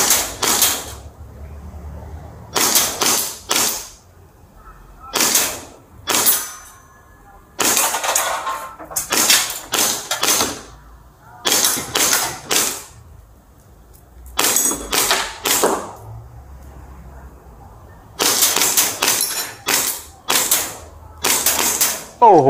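Hi-Capa 5.1 airsoft pistol fired repeatedly at a target, sharp loud cracks coming singly and in quick bursts with short pauses between groups, close by and standing out clearly above a quiet background.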